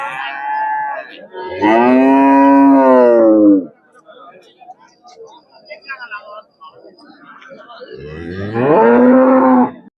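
Jersey cows at a cattle market give loud, long, close moos, two drawn-out calls near the start and another near the end, with quieter market chatter and background noise between them.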